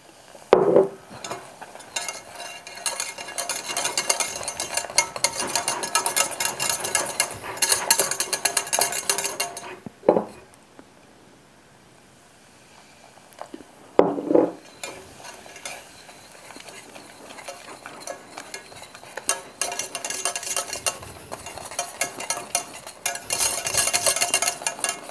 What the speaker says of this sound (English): Just add the beer in bit by bit. Can whisk it at this stage.